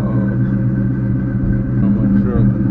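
A new Ford Mustang with a mild cam idles and revs in a loud, close, lumpy rumble that holds steady throughout, with people talking over it.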